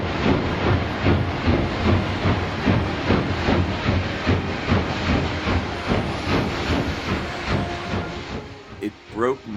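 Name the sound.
steam train starting to move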